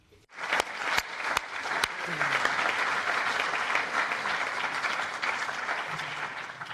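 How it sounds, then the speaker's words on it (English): An audience at a school democracy event bursts into applause after a short pause, sharp opening claps giving way to a sustained, even round of clapping from many hands that fades slightly toward the end. "So a round of applause for them."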